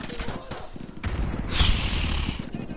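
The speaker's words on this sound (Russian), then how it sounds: "Стреляют!" Rapid bursts of gunfire and a heavy boom in Call of Duty Modern Warfare 2, loud and close, with a voice breaking in among the shots.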